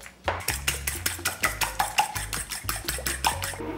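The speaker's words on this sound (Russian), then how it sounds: "Перемешали и теперь взбиваем тщательно." Rapid, rhythmic whisking taps against a bowl of eggs, about three strokes a second, close and continuous with no talking.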